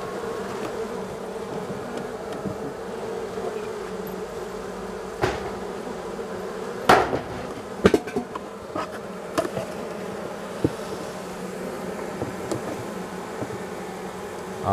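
Honey bees buzz steadily around an open hive during a morning inspection, a dense continuous drone with a few sharp knocks and clicks of frames and hive parts being handled.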